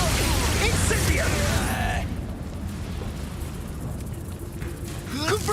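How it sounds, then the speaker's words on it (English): A fiery Incendio spell is cast in the video game Hogwarts Legacy: a loud, roaring burst lasting about two seconds, then fading to a quieter crackling rumble under a voice. "Incendio!"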